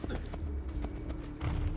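Horse hooves in Assassin's Creed 2, a steady rhythmic clip-clop of a ridden horse moving at a trot, moderately close, with faint voice underneath.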